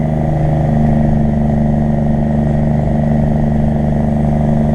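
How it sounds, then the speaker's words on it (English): A Cummins truck engine rumbles steadily while driving, a loud, continuous low grumble with even mechanical texture and no talk over it. "Just listen to that big old Cummins grumble away."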